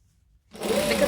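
A sewing machine starts up after a brief hush and runs steadily, top stitching fabric with an even mechanical whir close by.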